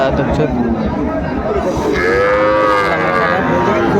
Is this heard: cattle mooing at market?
yes